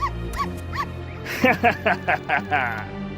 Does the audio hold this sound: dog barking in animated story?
yes